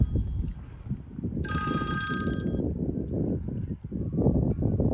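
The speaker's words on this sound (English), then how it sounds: "My phone's ringing" A mobile phone rings with a bright electronic chime for about a second, heard over rushing, rumbling outdoor noise at a fishing pond.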